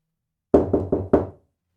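Four sharp knocks on a front door in quick succession, close and distinct against silence.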